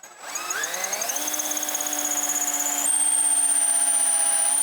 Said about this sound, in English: I'll get it out of the way so that I can then drill down to my depth flag accurately.